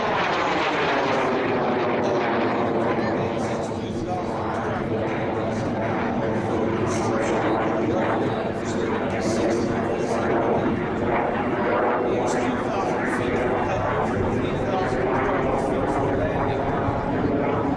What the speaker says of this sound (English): It's fitted with a Rolls-Royce Viper 20 Mark 540 turbojet